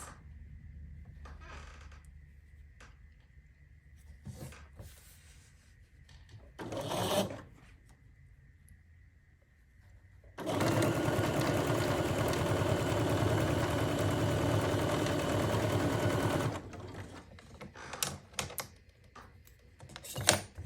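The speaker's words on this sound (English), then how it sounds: "let's sew another one of these" A sewing machine runs in one continuous loud stitching burst of about six seconds, set between quieter clicks and handling sounds of fabric and machine parts.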